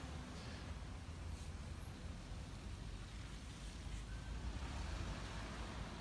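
Steady, dense roar of traffic on a busy multi-lane street with bus lanes, buses passing constantly, low rumbling engines forming a continuous wash of noise at moderate distance with no clear gaps.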